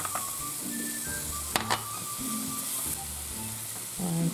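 Sliced bananas and cranberries fry in a pan with a steady close sizzle, broken by a few sharp clinks and stirring scrapes, with no talk over it.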